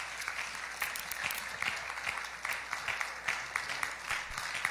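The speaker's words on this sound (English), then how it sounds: "let's give a hand round of applause for the praise team." A church congregation at a Mother's Day service applauds the praise team with fairly quiet, uneven clapping that swells and dips, with individual claps standing out across the room.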